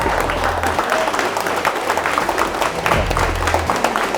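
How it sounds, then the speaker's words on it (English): Crowd applause at a welding academy event in Eldon, Iowa, with a broad wash of clapping hands sustained throughout and a low rumble underneath, fairly loud and close. "So let's give these guys a big round of applause."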